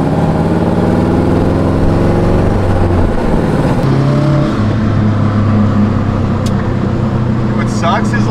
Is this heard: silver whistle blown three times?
no